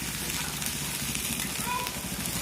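Vegetables with turmeric and masala sizzle and fry steadily in a pan on a home stove, a continuous crackling hiss heard close up with a voice faint underneath.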